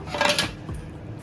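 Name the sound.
lid being put on cooking pot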